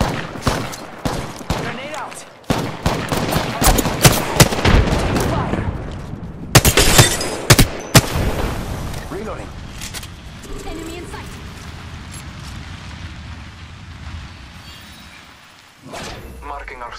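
Game combat in Halo-style fighting: rapid bursts of gunfire and sharp blasts, including a loud grenade explosion midway, then quieter rumbling aftermath, with speech over parts of it.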